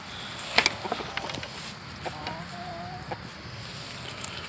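Chickens in a garden give faint, scattered clucks and a few short calls over low outdoor background noise, heard at some distance with no talking.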